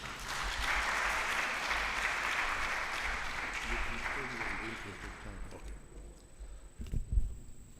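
A crowd at a book launch applauds steadily for several seconds, then the clapping thins out and fades, leaving a brief murmur and a few final claps.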